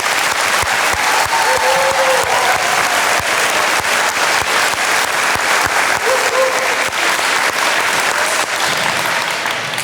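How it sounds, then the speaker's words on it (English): Sustained, loud applause for new National Junior Honor Society members at an induction ceremony, many hands clapping densely and evenly throughout, with a few faint voices underneath. "please join me once again in applauding all of our new Honor Society members."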